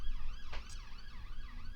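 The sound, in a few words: police car siren passing on a nearby road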